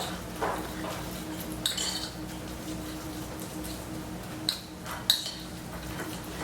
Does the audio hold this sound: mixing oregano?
yes